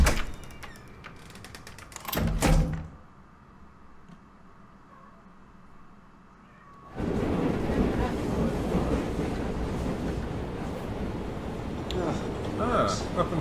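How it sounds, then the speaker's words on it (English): A train in a science-fiction video game: a clatter and slam of doors, then a quiet lull before a loud, steady rumble of the moving train carries on under a speaking voice. "Welcome to the train."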